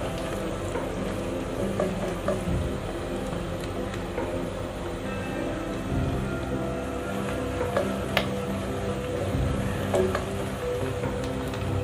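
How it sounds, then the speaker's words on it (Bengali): Onions lightly frying in a pan for a home-style beef curry give a continuous close sizzle, broken by occasional stirring scrapes and clinks, with no voices. "এই পেঁয়াজটা একটু আমি হালকা ভেজে নেব"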